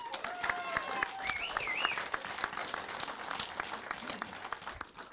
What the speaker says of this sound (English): give a round of applause to all these guys up here